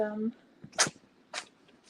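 A cat sneezes twice in quick, sharp little bursts, just after a short snatch of a person's voice, fairly close and otherwise quiet.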